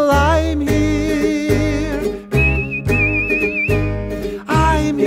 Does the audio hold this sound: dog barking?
no